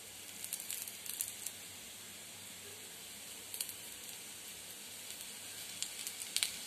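Food frying in oil in a pan as it browns gives a soft, steady sizzle with scattered faint crackles and pops throughout.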